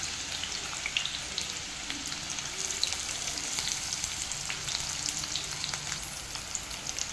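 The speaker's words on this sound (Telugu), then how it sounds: "ఆనియన్స్ అన్నీ ఇలా సపరేట్ చేసుకుని ఫ్రై చేసుకోండి." Onions frying steadily in a pan, a continuous even sizzle close up with no talking.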